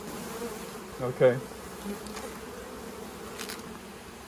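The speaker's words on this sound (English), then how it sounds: "It's like a big pile of bees." A swarm of honey bees, about four pounds being brought home, hums as a faint, steady buzz close by, briefly under a short spoken word.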